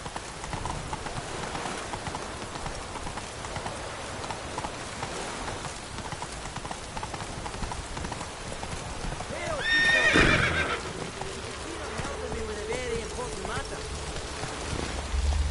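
Roach, the horse in Witcher 3, gallops with a fast, steady clip-clop of hooves over falling rain, and a loud whinny breaks through near the middle.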